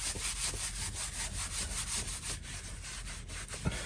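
Wet axe being scrubbed with quick back-and-forth rubbing strokes, a dense rhythmic scratching close up that eases off toward the end and stops with a light knock.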